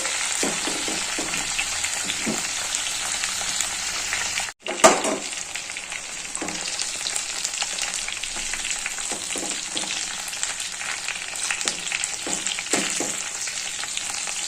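Stuffed eggplants fry in hot oil with a steady, dense sizzle throughout, a brief dropout and a small clatter near the middle, and occasional soft crackles and pops; no one speaks.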